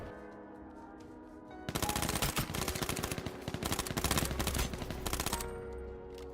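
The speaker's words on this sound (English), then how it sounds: "So I lay down here and take aim at him, and from here I'm shooting." Rapid automatic gunfire in the PS4 game H1Z1 rattles loudly in a sustained burst of several seconds over steady game background noise, with no talking.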